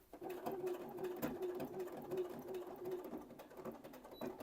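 A sewing machine stitches pinned dress straps on a pinafore dress, a steady close mechanical whir with a constant hum and rapid needle rhythm, running alone and quietly throughout.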